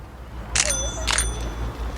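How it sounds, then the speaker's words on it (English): A bicycle bell rings twice in quick succession, with clear metallic dings over low background rumble. "Can you ring the bell for us, Gemma?"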